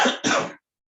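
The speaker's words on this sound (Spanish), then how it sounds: "Así que ando con bastante tos." A lecturer with flu gives a short hoarse throat clearing followed at once by a single rough cough, close and alone, then quiet.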